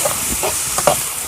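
Onions and red chili frying in a pan in a Sindhi village kitchen while karela curry is being made, a soft steady sizzle with a few stirring scrapes over about a second.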